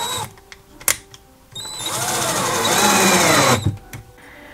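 A Patriot BR180LI cordless drill-driver whines steadily for about two seconds as it drives a self-tapping screw, loud and close, bracketed by a few clicks and handling knocks with no talking.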